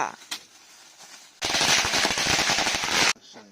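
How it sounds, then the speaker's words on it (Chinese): A long string of firecrackers set off for a holiday crackles in a dense, rapid burst of sharp pops for a couple of seconds, loud and close, then abruptly stops. "这过节也来放炮来了"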